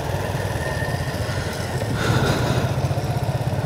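Motorcycle engine running steadily while riding on a hill road from Bandarban toward Ruma, a continuous close, loud drone with a slight swell midway and no talk.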